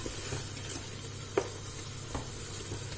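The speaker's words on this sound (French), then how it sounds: "je viens de temps en temps tourner ma viande" Meat sizzles quietly in a cast-iron pot while it is stirred now and then, a low steady frying hiss broken by a couple of brief scraping knocks.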